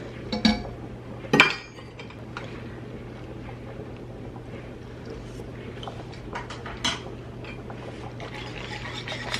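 Cooked noodles being strained from a pot: metal clanks and knocks of the pot and strainer, with a couple of sharp clunks early on, over a steady low hum and soft running, splashing water.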